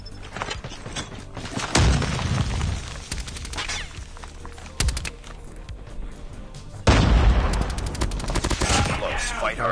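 Rapid automatic fire from the new battle pass gun in COD Mobile, loud close bursts with heavy booms and game sounds, broken by short pauses, while a voice talks over the action.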